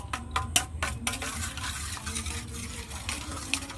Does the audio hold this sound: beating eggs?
yes